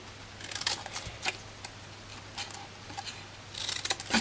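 Paper tabs for a gift box trimmed with scissors, a few quick, close snips scattered across a few seconds in a quiet room.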